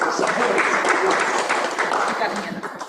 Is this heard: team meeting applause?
yes